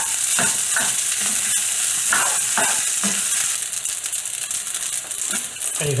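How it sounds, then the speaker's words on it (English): Egg fried rice with ham is stir-fried in a very hot wok, giving a loud continuous sizzle with repeated scraping and tossing strokes of a utensil against the pan, and no voices. "And you can hear the rice cooking now. That is a very hot wok."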